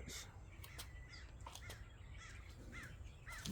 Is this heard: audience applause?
no